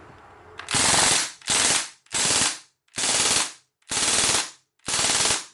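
Crosman DPMS SBR CO2 blowback BB M4 firing six loud, close bursts of rapid full-auto shots, each about half a second long and separated by short silences.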